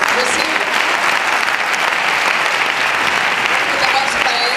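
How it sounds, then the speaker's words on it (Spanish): A large audience applauds steadily at the close of an evening concert of young singers performing Machado poems, a dense, continuous wash of clapping that fills the whole stretch without a break. "Un aplauso para ellos."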